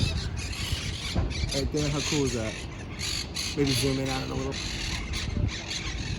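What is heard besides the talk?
parrots squawking at Green-Wood Cemetery gates, Brooklyn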